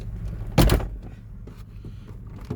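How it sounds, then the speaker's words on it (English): A car door shuts with a single solid thump in a quiet car park, followed by faint rustling and a small knock near the end, with no talking. "Shut the door, but it's like daylight out there."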